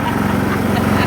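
A ride-on lawnmower engine runs steadily at close range, a constant low mechanical drone with a rhythmic chugging pulse and no pauses.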